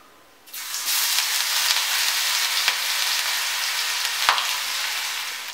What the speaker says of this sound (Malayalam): ഇതിലേക്ക് ഇഞ്ചിയും വെളുത്തുള്ളിയും പച്ചമുളകും കൂടെ ചതച്ച് വെച്ചിരിക്കുന്നത് ചേർക്കാം.